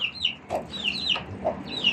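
Chickens cluck repeatedly nearby, short throaty clucks mixed with higher calls, steady and close with no talking.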